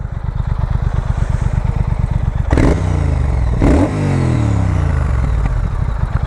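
A Triumph Thruxton R motorcycle engine idles close by with a fast, even thump, then is revved twice in sharp bursts that rise and fall, settling back to a steady idle.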